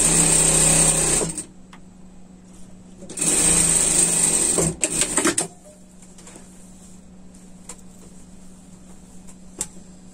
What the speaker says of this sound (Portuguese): E passar uma costura aqui, só nas alças